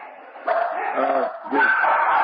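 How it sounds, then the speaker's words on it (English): Several dogs indoors bark and yip excitedly at a squirrel outside, in two quick bursts of harmonic barking, sounding thin and muffled as if picked up through a phone line. "the dogs see a squirrel outside. They're going crazy."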